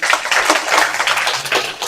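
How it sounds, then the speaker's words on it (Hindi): Brief burst of lively clapping from a group of students in a classroom cheering weekly test scores, loud and close with quick uneven hand claps. "जोरदार तालियां।"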